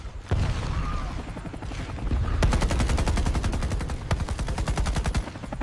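Loud sustained gunfire erupts on command, rapid automatic bursts of dense cracks rolling continuously with a heavy low-end thump, defending a village.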